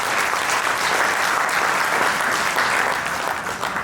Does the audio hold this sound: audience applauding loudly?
yes